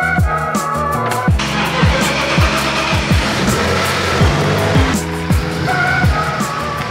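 A BMW E46 pulls away on a street at night, its engine loud and close as the tires squeal in repeated sharp bursts while it accelerates.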